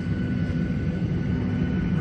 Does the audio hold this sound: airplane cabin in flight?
yes